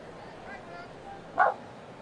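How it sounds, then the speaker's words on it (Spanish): At a Giants versus Braves baseball game, a dog gives a single short bark that stands out briefly above the steady crowd noise and the play-by-play commentary. "Aparece el perro de la suerte para los Bravos."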